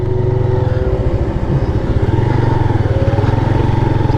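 Honda CB150F 150cc motorcycle on a road ride toward Kashmir, its engine droning steadily and loudly up close with a rhythmic throbbing pulse throughout, no voices.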